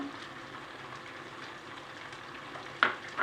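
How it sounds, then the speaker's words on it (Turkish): Almonds fry in hot melted butter in a pan for semolina halva. A faint, steady crackling sizzle runs throughout, and two brief sharper scrapes or stirring knocks come near the end, with no voices. "Isınan tereyağımın üzerine bademlerimi koyuyorum."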